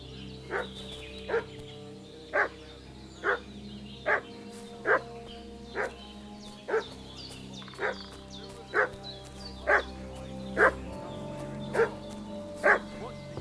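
A dog barking in the game Kingdom Come: Deliverance 2, single woofs at an even pace of about one a second, fairly distant over a low ambient hum.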